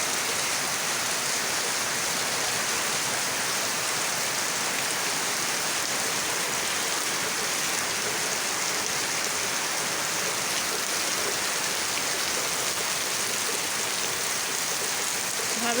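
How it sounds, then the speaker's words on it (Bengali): Heavy rain pours down in a dense, unbroken roar, loud and steady from start to finish, with no one speaking. "প্রচণ্ড বৃষ্টি।"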